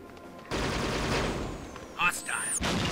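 Gunfire in the video game Halo: Spartan Assault, a sustained burst of dense rapid shots with a couple of sharper bangs near the end, loud and continuous under a voice talking.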